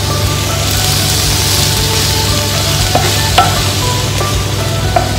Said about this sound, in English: we're just going to give it a quick stir, and we're going to let the onions cook down for about 2 to 3 minutes